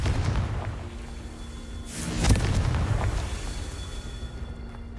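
A Confringo spell blasts in Hogwarts Legacy with a sudden booming burst in the middle, over a continuous rumbling game background that swells and then trails off.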